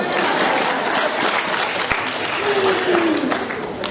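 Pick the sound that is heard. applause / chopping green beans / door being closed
applause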